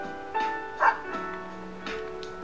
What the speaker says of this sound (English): Snowy barks once as if comprehending its name.